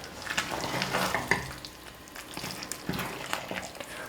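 Gram flour batter for Mysore pak cooking in oil on a stove, a close bubbling sizzle with repeated scraping and stirring strokes against the pan, steady and busy with no voices.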